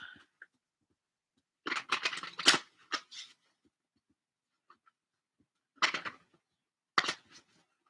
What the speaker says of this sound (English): One more shuffle because that last one was shit.